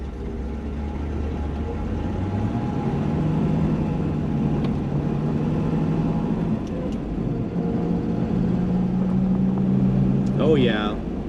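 A C2 Corvette drives through snow, its engine giving a steady low drone and whir heard from inside the car at a fairly constant level, with a brief rise near the end.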